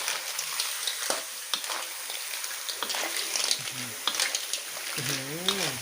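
Clams stir-fried with Thai roasted chili paste in a hot pan, a steady sizzle with scraping stir strokes, close and fairly loud, with someone speaking over it.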